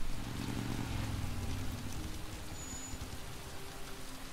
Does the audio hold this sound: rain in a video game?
yes